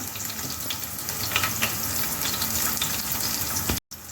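Two large onions cut into pieces fry in hot oil with curry leaves, producing a dense, loud, continuous sizzle close up that runs unbroken until a brief cut near the end.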